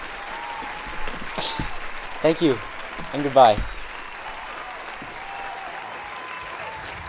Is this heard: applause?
yes